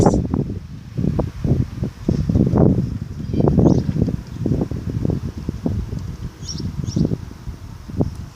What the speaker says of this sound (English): Opening the window and hearing the sound of the wind and the birds.